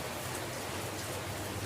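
Heavy rain pours steadily and continuously, a dense, even hiss of falling water with no break across the short stretch and no voices.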